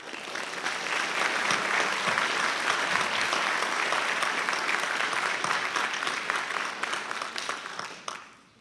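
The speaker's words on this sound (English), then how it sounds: "Let's give him another round of applause." Audience applause at a graduation-style ceremony, a dense sustained wave of clapping from a large crowd that holds steady for several seconds before tapering off at the end.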